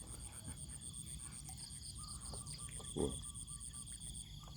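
Frogs calling at a rural pond on a fresh morning, faint scattered croaks and chirps amid a steady insect trill and soft background hiss, with one brief louder call near the end.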